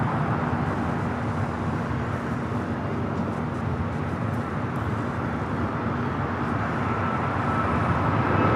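An American Airlines airliner passing at LAX, a steady, broad roar of jet engine noise holding at constant loudness throughout, with no voices.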